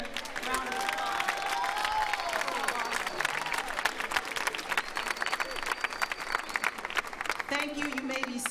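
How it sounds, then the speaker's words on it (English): Audience at a distinguished FAMU ceremony applauds and cheers in a sustained, dense wave of clapping with crowd voices throughout, tapering slightly near the end as talk begins. "Give that young man another round of applause."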